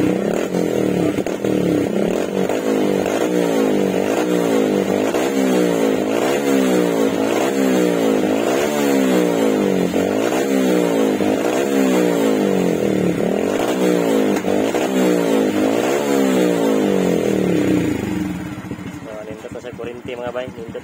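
A Suzuki Raider J115 Fi motorcycle with a dual ignition coil revs close up in repeated rhythmic pulses for most of the span, then settles to a lower idle near the end.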